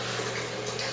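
Water runs steadily from a tap into a container, a constant close hiss and rush with no pauses.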